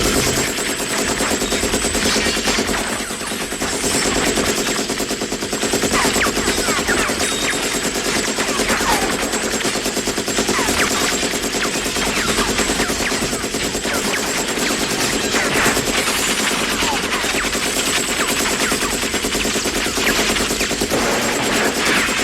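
Sustained machine gun fire from a Trailer Park Boys TV scene, a dense continuous roar of rapid shots lasting the whole stretch with no pauses or talk.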